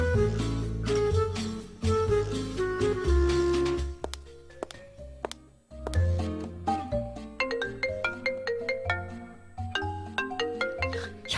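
A melodic mobile phone ringtone in a Korean radio drama plays bright chiming notes in repeating phrases, loud and clear with no talking over it.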